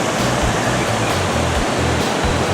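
Steady, loud rush of small waterfalls in Trikala town, a dense continuous roar of falling water with a low rumbling undertone and no voices.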